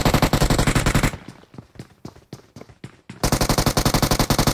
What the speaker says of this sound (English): I hit him with a shotgun too.